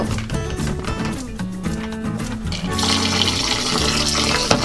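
Glutinous rice being washed in water in a cooking pot, with continuous close splashing and running water that gets fuller and louder partway through.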